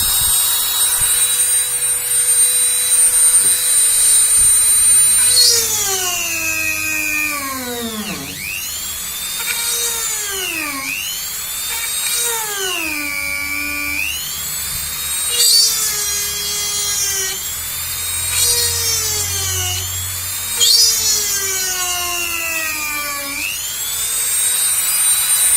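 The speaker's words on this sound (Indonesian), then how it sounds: "Kita akan coba ulangi lagi dengan speed yang paling tinggi." A Kleiten mini die grinder runs at its highest speed, a loud close high whine that repeatedly dips in pitch and recovers as the bit bogs down under load, then spins back up.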